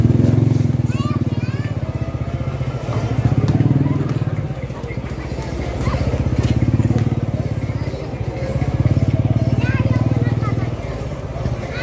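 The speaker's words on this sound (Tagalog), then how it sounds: "Nakapasok ang motor dyan." A motorcycle putters through a narrow slum alley in Tondo, Manila, its engine rising and falling in waves as it passes close, with people's voices and children's chatter around it.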